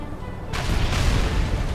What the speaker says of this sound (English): have your hydrofoil fire on that Soviet apocalypse tank on the shore